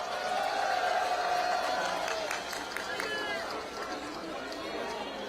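Crowd applauding and cheering at an open-air presidential campaign rally in Seoul Station square, a steady broad wash of clapping with chatter mixed in throughout.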